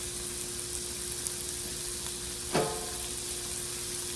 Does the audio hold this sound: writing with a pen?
no